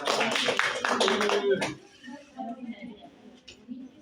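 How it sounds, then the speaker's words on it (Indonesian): A classroom bursts into a short round of applause, many hands clapping rapidly and fairly close for about a second and a half before it stops abruptly, followed by faint murmuring. "Tepuk tangan dulu dong. Tepuk tangan untuk kita semua."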